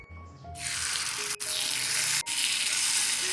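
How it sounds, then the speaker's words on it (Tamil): Paniyaram batter poured into a hot, oiled paniyaram pan sets off a loud, close, steady sizzle. The hiss starts abruptly after a quiet moment and holds with two brief dips, and no one speaks. "இப்போ பணியாரம் ஊற்றிக்கலாம்"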